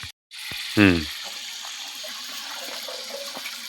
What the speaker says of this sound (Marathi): मगाशी चिरलेली सगळी मिक्स भाजी या ठिकाणी स्वच्छ धुवून आत टाकलेली असा